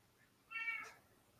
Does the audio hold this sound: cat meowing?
yes